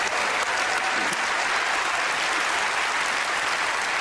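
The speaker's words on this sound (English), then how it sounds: "I like that Pen's clapping so much" Steady, full applause from an audience at a magic show, dense clapping that holds evenly throughout with no speech over it.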